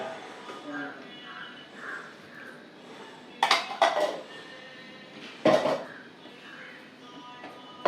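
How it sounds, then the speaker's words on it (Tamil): A mixer grinder jar being washed, with clinks and knocks of the jar against metal and a couple of louder clattering bursts, close by under quiet background voice and hum. "இந்த மிக்சி ஜாரை வந்து அலம்பி விட்டுக்கிறேன்"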